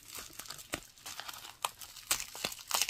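A black bubble mailer envelope is handled and opened up close, producing quiet, irregular crinkling and crackling of plastic and paper with short tearing rustles.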